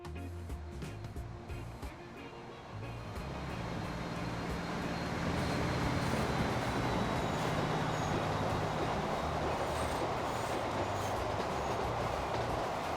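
A freight train rolls past in the Transport Fever simulation game, a steady, loud rumble of wagons that builds after the first few seconds and holds to the end, with no talking over it.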